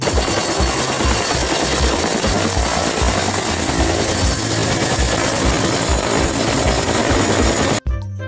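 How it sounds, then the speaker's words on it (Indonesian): A red toy passenger helicopter gives off a loud, continuous whirring rotor drone with a steady pulsing throb that runs unbroken before cutting off abruptly near the end. "ini sepertinya helikopter berwarna red color teman"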